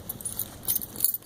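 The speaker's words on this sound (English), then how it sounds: "You get your keys" A bunch of car keys jangles in a few quick, bright metallic shakes, close by with no talking.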